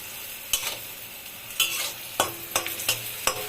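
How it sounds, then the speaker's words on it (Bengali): Bitter gourd fries in a pan while a utensil stirs and scrapes, with several sharp clacks at irregular intervals over a steady frying hiss. "সুন্দর করে করলাটাকে ভেজে নিব"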